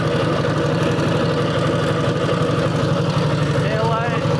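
A 1946 girder-fork motorcycle engine idles steadily after being kick-started, with a loud, continuous, even low throb throughout.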